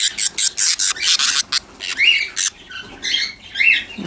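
Large parrot chicks squawking in a nest box, harsh rapid close-up squawks in quick bursts, then rising shrill calls, all loud and close with no talk.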